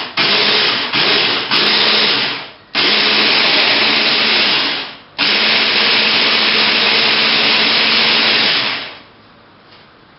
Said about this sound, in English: So let's start pureeing the 2 mangoes that we're going to put into the cream.